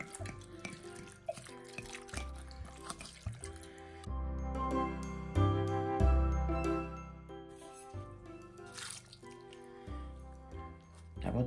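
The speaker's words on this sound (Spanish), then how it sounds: "Vamos a echarle vino tinto." Red wine glugs and splashes from a bottle into a wild boar stew pot, a steady liquid pour with soft drips and small clinks, close and fairly quiet.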